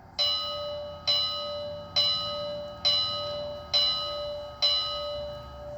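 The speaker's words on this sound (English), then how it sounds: "So here's F1, which is the bell." A Bachmann HO scale 2-8-4 Berkshire C&O Kanawha model locomotive rings its electronic bell: six evenly spaced clear strikes about once a second, each decaying before the next, close and alone.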